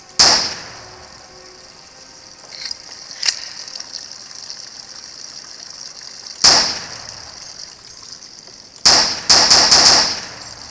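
A barrel explodes when shot in a horror video game, giving a sharp bang at the start, then further sudden cracks and a flurry of rapid blasts near the end, with quiet gaps between them.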